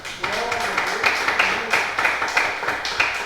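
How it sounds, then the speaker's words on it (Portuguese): A congregation at a Pentecostal Assembleia de Deus church claps in a fast, steady rhythm, with voices mixed into the applause. "Uma salva de palmas para Jesus."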